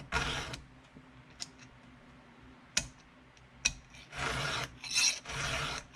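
A hand file sharpens a chainsaw chain in close rasping strokes, with bursts of grinding at the start and end and a few sharp metallic ticks between them.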